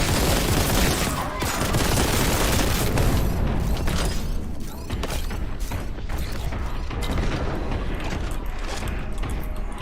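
Dense gunfire and grenade blasts from the Warhammer 40k: Boltgun shooter, a loud continuous barrage of shots and booms with mechanical clatter and no pauses.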